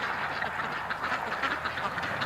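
A flock of domestic ducks quacking continuously, many overlapping calls at moderate distance forming a dense, busy chatter with no pauses.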